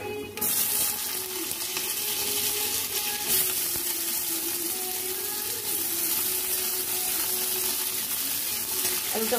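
Potato pieces fry in a pan with oil and peanuts for a Bengali mocha dish, a continuous close sizzle and crackle holding steady across the whole stretch with no talk.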